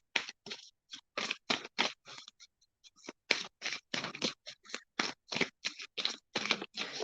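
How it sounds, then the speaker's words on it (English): Tarot cards are shuffled up close in a quick run of crisp riffling bursts, about twenty short papery flicks with brief pauses between them, alone without talk. "Just shuffling the cards."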